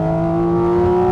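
Porsche 718 Cayman GT4 RS flat-six, heard from inside on a road drive, screaming at high, steady revs with a piercing, tonal wail that holds loud and close the whole time, with no talk over it.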